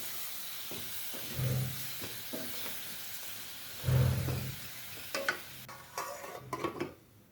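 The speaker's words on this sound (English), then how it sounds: "I added in the tomatoes, gave them a good mix so that everything is nicely mixed in there" Tomatoes get stirred into beef stew in a pot: a few soft scraping and clunking strokes of the spoon over a faint simmer, quiet and close, with no voices.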